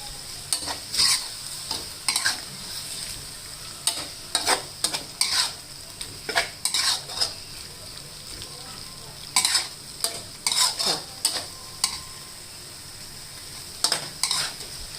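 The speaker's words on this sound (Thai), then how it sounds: "ผัดส่วนผสมเข้ากันนะคะ" Pork belly and red curry paste are stir-fried with sugar and seasoning in a pan, with a spatula scraping and clattering in repeated bursts over a low sizzle. The strokes come in irregular clusters with short pauses between them.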